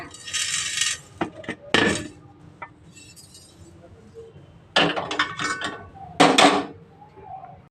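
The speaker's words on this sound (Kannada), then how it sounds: "ನಾವು ಫ್ರೈ ಮಾಡಿರುವಂತಹ ಜೀರಿಗೆ ಹಾಗೂ ಮೆಣಸನ್ನು ಇದಕ್ಕೆ ಹಾಕ್ಕೊಂಡು ಚೆನ್ನಾಗಿ ಪೌಡ್ರ್ ಮಾಡ್ಕೊಳ್ಳೋಣ" Fried cumin seeds and black pepper are powdered in a small grinder jar for homemade rasam spice, heard as a few loud rattling, clinking bursts separated by quieter pauses, with brief clatter of the jar in between.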